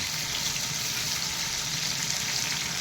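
Tomato dropped into a hot pan of onion gives a steady, loud broadband sizzle that fills the whole stretch, even and continuous without pauses, and no one speaks over it.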